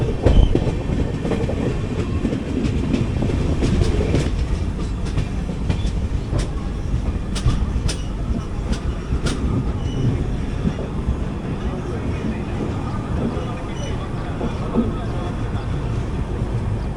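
Inside an AC 3-tier coach of the Kacheguda Madurai Superfast Express, the train rumbles along continuously with loud low-end roar and sharp, irregular rail clicks and clanks, and speech is heard over the steady running noise.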